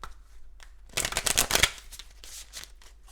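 Tarot cards being shuffled by hand, a close burst of crisp riffling and flapping lasting under a second, then quieter handling noises in an otherwise quiet room.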